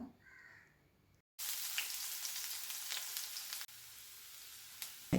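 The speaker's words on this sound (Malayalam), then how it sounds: "കടുക് പൊട്ടി വന്നതിന് ശേഷം നമുക്കിതിലേക്ക് അരിഞ്ഞു വെച്ചിരുന്ന ചെറിയുള്ളി ഇട്ട് കൊടുക്കാം" Chopped shallots drop into hot coconut oil with popped mustard seeds, and a loud, steady sizzle bursts in after a quiet moment and keeps crackling to the end.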